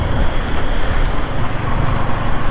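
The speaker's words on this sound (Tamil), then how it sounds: "ரோடு எல்லாம் ஃபுல்லாக பார்த்தீங்கன்னா டிராஃபிக்காக தான் இருக்கு." Dense road traffic on a highway in Maharashtra, a steady, loud broadband roar of passing cars, buses and trucks heard close by with no pauses.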